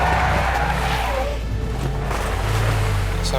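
Car speeding with tires skidding, a loud sustained screech and engine roar with a deep low rumble underneath, continuous for several seconds, with voices faintly audible.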